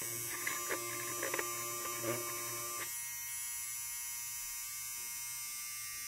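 An ANVAVA USB rechargeable nose hair trimmer buzzes with a steady electric hum, faint and close, while a few clicks and handling knocks come early before it settles into a lone even whirr; a brief voice is heard.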